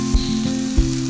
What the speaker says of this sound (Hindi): 4 अदद स्लाइस प्याज भी है, इसको भी लाइट गोल्डन करेंगे हम।